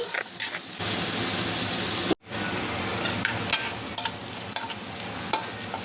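Onions frying in a pan until they turn brownish, with a steady sizzle and occasional stirring scrapes, a brief dropout partway through, no voices.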